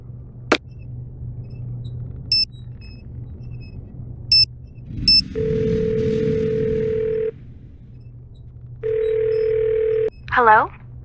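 Telephone in a Nancy Drew video game: a few clicks and short beeps as buttons are pressed, then two separate steady dial-tone stretches, loud and near, over low background hum, ending with a brief warbling sound.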